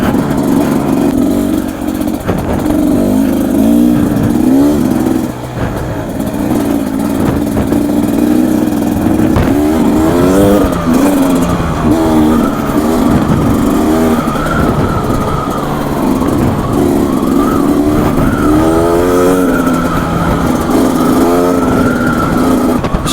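Beta four-stroke dirt bike engine revving up and down while riding, a steady loud drone with rising and falling pitch sweeps throughout, close to the rider.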